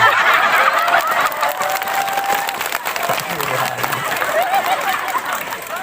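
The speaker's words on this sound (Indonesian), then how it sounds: "Lalu tepuk tangannya" A crowd at a sermon in a mosque claps continuously at moderate loudness, with scattered voices and chatter mixed into the applause.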